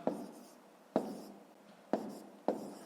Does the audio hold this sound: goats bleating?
no